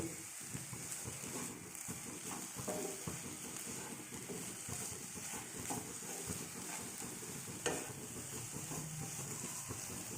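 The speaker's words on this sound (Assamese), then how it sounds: "এতিয়া এইখিনি কম জুইত ভাজিম।" Steady sizzling hiss of grated coconut and jaggery frying over low heat in a pan, continuous and fairly quiet, with faint scraping and stirring clicks scattered throughout.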